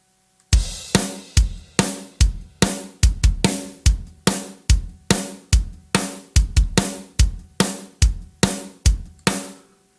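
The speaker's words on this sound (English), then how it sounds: "So the actual dev kit sounds like this." A Superior Drummer Metal Foundry dev kit plays a steady, punchy drum pattern of loud, tight hits with sharp attacks and quick decay, evenly spaced for about ten seconds with no talking.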